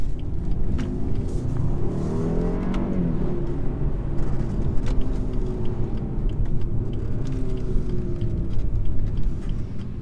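A 2018 BMW 420i xDrive engine drones steadily while driving, with a low rumble and a slight rise and fall in pitch as the car picks up speed.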